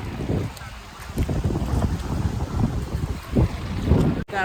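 Wind roars across the seashore at Nagaon beach in Alibaug, a steady broadband rush with gusty buffeting against the microphone and the wash of surf beneath, with no voices.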